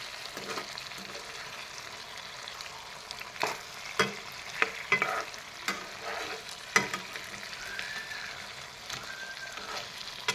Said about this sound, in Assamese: এনেকৈ গোটেই মাছখিনি এপিচ এপিচকৈ লগাই তল ওপৰ কৰি দি দিম।